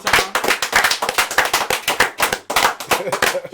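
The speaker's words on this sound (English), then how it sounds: "Clap it up, clap it up one more time." Dense, ragged clapping from a live audience at a comedy or music show, loud and sustained with sharp overlapping hand claps and a brief dip midway before the clapping swells again.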